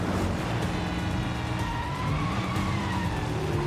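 Ambulance siren and car tires skidding in the 007 First Light video game, a steady loud mix of engine roar and tire screech with a rising and falling siren tone running through, no talking.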